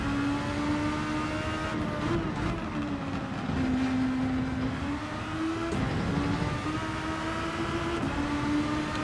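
A race car engine in a racing game drones at steady high revs, the pitch rising and dipping slightly as the car accelerates under its overtake boost; loud, close and continuous, with no talking.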